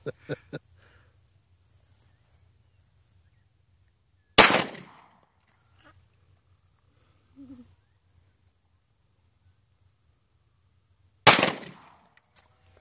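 Two sharp gunshots fired at a soda bottle ring out several seconds apart, each a loud crack with a short decaying tail, with small clicks and faint handling noises in the quiet between.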